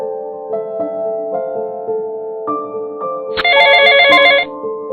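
A phone ringtone plays alone, a stepped electronic melody of clear tones that rises and ends in a louder, brighter burst of repeated notes.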